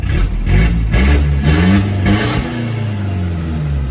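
A car engine revs up and down in strong low, throaty surges over several seconds, close and loud, at a modified street-car shop.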